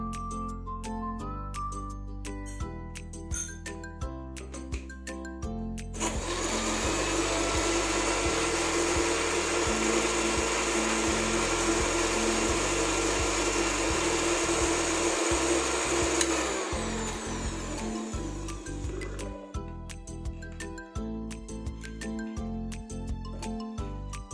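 A kitchen blender grinds almonds for thandai in a loud, steady whir that runs for about ten seconds between stretches of rhythmic background music.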